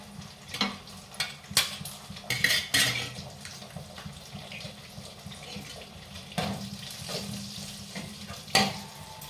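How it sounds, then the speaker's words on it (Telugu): Two eggs fry in oil in a pan, a steady crackling sizzle broken by several sharper stirring and scraping clatters, close and fairly loud, with no talking. "జస్ట్ టూ ఎగ్స్ ఆయిల్ పడింది"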